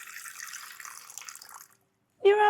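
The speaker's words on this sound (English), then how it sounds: "Let's get a cup of water in there." A cup of water poured into a mixture while making strawberry-flavoured marshmallows, a steady splashing flow for about a second and a half, then silence followed by a brief louder tonal sound.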